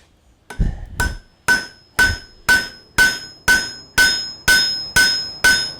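Hammer blows forging a barbeque spoon on an anvil ring out in a steady run of about ten sharp, loud metallic strikes, each leaving a bright ringing tone that decays before the next.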